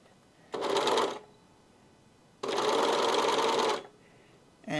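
Serger overlocker sewing machine runs in two short bursts of rapid whirring stitching, the second longer, with a brief third start at the end, separated by quiet pauses.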